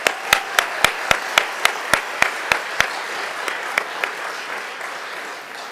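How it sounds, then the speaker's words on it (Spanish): At a departmental assembly ceremony honouring a former health minister, the audience applauds in a steady wash with a few loud, evenly spaced claps standing out, tapering off toward the end. "Otro aplauso, por favor,"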